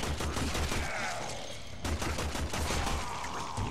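Primary weapon gunfire in the video game Warframe, a tutorial on PS4: rapid, steady bursts of shots at targets, loud and continuous with a brief pause partway through.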